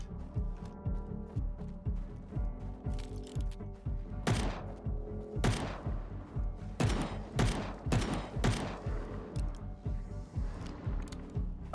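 Rapid bursts of gunfire in Fallout: New Vegas, loud sharp shots repeating steadily over a layered game background, with several heavier blasts standing out midway.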